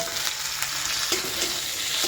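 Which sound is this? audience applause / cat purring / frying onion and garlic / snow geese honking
frying onion and garlic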